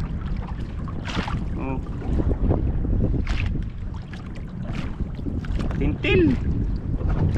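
Wind blows steadily across a boat at sea with its engine switched off, a broad rushing roar with buffeting against the microphone, and someone talking intermittently over it.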